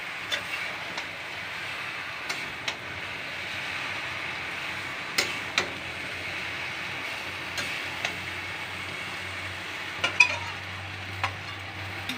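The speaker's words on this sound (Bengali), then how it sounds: "পুঁই শাকটা দিয়েছি, দিয়ে একটু নাড়িয়ে" Malabar spinach leaves being stirred in a frying pan, a steady soft sizzle with scattered light clicks of a spatula at irregular intervals, close and fairly quiet, with no voices.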